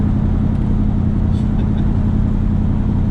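An LS-swapped Jaguar XJ-S on the road, its V8 engine giving a steady, loud low rumble with road noise as the car drives and shifts gears smoothly, with no clear break in the drone.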